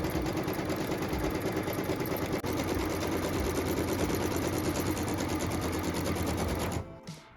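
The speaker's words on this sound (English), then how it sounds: "So now it's time to stitch the batting placement line." An embroidery machine stitches a batting placement line onto hooped stabilizer with a loud, steady, rapid needle chatter that runs continuously and then stops abruptly near the end.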